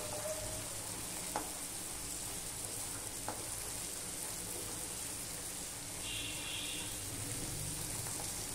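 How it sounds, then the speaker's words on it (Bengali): Poppy seeds fry on a low flame in a pan, giving a steady, faint, even sizzle with a couple of light scraping taps and no talk. "পোস্তটা ভাজতে থাকবো যতক্ষণ না পোস্ত ভাজার একটা গন্ধ বের হয়"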